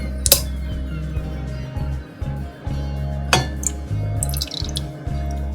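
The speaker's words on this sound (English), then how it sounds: "So I'm gonna add the lye water to the oils." Lye water is poured into soap-making oils in a kitchen setting, with a low steady trickle broken by a couple of sharp container clinks and soft knocks nearby.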